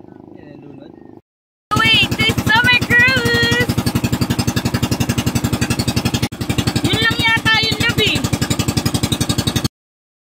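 A motorboat engine chugs in rapid, steady pulses after a brief quiet start, loud and close, with voices talking over it throughout before it cuts off near the end.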